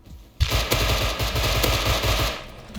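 A burst of rapid automatic AK rifle gunfire in the video game Rust, loud and continuous for about two seconds, with no talking.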